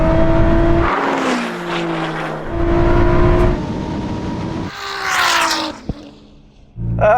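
A 1000-horsepower Nissan GTR and a Ferrari SF90 drag race, their engines rising in pitch and dropping at each gear shift through repeated hard pulls. A sharp pop follows, then a final surge. There is no talking.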